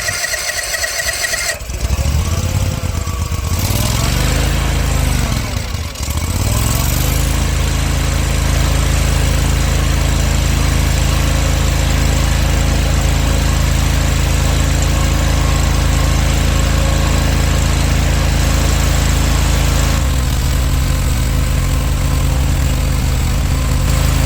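A Gravely Z34 mower engine, left sitting two years in chest-high weeds, runs steadily at a loud, close idle while warming up, with a brief dip and stumble early on before settling into a continuous drone.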